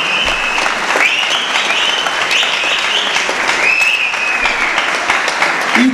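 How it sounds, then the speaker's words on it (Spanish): Boxing crowd applauding two junior boxers after their bout, a loud sustained roar of clapping and cheering across the whole stretch, with whistles and shouts mixed in. "Fuerte el aplauso a estos dos juveniles"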